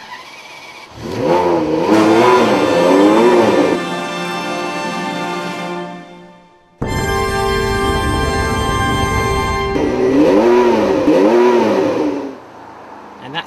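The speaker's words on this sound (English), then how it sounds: "you turn the key first and then you press the engine start to get this kind of crescendo" A Ferrari 599 GTB engine roars to life and revs hard several times, rising and falling in loud bursts, close by; a brief exclamation is heard.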